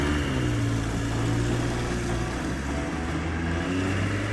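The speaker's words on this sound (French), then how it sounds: "c'est toujours un moteur de coccinelle, et c'est pour cela qu'il fait un bruit si horrible" Air-cooled Volkswagen Beetle engine fitted in a dune buggy runs with a steady, loud, rough drone and deep low rumble, with no pauses from start to finish.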